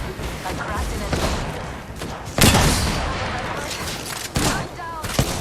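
Gunfire rings out in an Apex Legends match in the Armed & Dangerous mode: several loud, sharp bursts stand out over a dense, continuous game soundscape.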